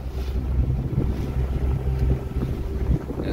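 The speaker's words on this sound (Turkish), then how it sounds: "Deniz hafif dalgalandı. Biraz rüzgar var." Steady wind rushes over open water, with a low rumbling drone beneath it and a constant buffeting hiss.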